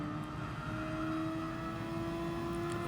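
Steady high-revving engine drone of a Super Formula race car at Spa in Gran Turismo Sport, a loud continuous whine held without a clear gear change, with no voices.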